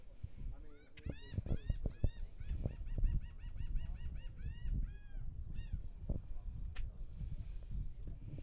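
Geese honking near the SpaceX Starship launch site at a Super Heavy Booster 7 static fire, a flock calling repeatedly in clustered bursts over outdoor background noise, moderately close.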